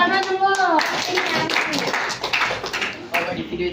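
A group claps at the close of a classroom presentation, a burst of hand claps mixed with children's and adults' voices chattering over the top, lively and fairly close.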